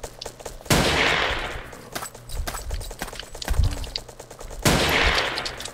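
Gunfire and blasts in the blocky shooter Ace of Spades, with two loud sharp bursts near the start and end and rapid popping shots between them.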